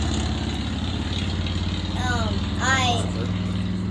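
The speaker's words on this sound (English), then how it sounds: "you gotta talk louder when a motorcycle comes through" A steady engine drone with a rising, sweeping motor pitch as a motorcycle passes nearby, people talking over it.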